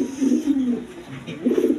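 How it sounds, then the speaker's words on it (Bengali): A pair of pigeons coo in low, rolling phrases, one call at the start and another near the end, close and fairly loud with a soft hiss of background behind. "আমি কবুতরের জোড়া দিছি"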